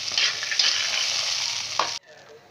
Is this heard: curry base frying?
yes